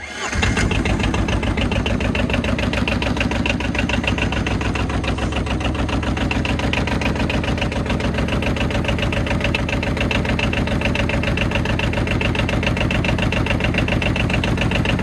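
A warm diesel engine on a Polaris or Arctic Cat off-road utility vehicle cranks and catches at once, then settles into a loud, steady, close-up idle with an even rhythmic knock that continues throughout.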